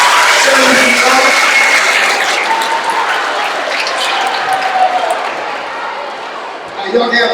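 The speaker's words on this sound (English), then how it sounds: "Let's give Mr. King another round of applause." A middle school Black history program audience applauds loudly, with clapping mixed with scattered cheers and whoops, gradually easing before a voice returns at the end.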